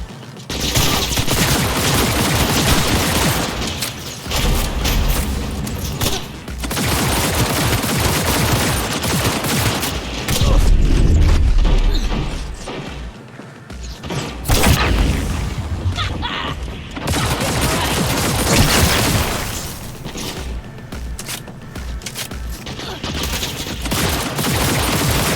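Loud, sustained gunfire fills a chaotic firefight in Cyberpunk 2077 as sniper shots mix with bursts and booms, dense and continuous with brief lulls.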